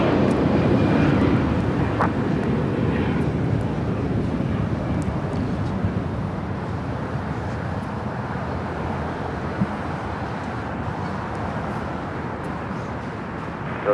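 A Delta Airlines Airbus A321 jet on the Los Angeles LAX airport, a steady broad roar of engines heard from a distance that holds throughout without speech.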